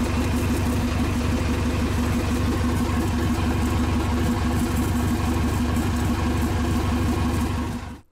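A boat engine idles on a test run after new pipes were fitted, a loud, steady, close mechanical drone with a rhythmic low pulse before cutting off at the end.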